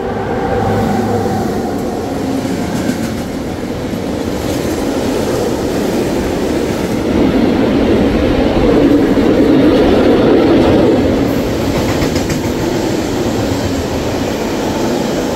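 A freight train rolls through Medgidia station, a loud, steady rumble of wagons passing close by for the whole stretch, with a faint metallic clatter over the roar and no voices.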